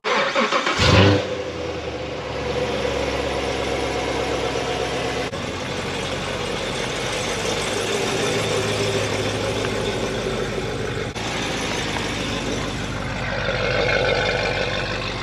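A Corvette C7 Stingray with the Z51 package and a stage 2 tune idles close by, a steady low rumble that holds evenly throughout after a brief louder blip near the start.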